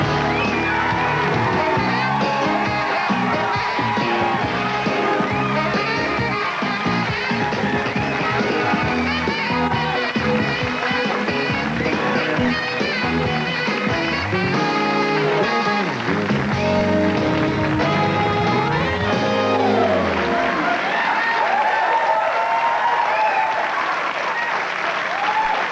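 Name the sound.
studio audience cheering and applauding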